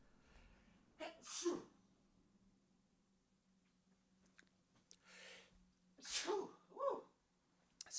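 Two close sneezes, the first early and a stronger one later with a follow-up burst, surrounded by quiet room tone and faint breathing.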